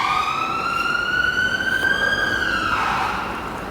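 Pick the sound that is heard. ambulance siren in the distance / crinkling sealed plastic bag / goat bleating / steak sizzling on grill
ambulance siren in the distance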